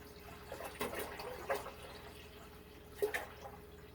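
A 64-ounce jug of apple juice pours into a cooking pot for wassail, faint splashes and glugs arriving in a few short bursts with quiet gaps between.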